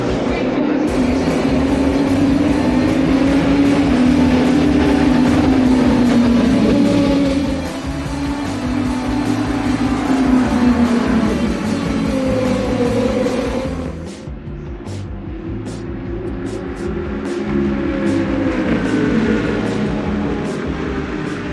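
Race cars roar off at the start of the Rolex 24 endurance race: a loud, continuous engine drone with shifting pitch as cars pass, dipping briefly before swelling again.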